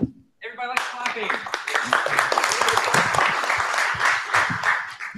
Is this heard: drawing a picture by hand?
no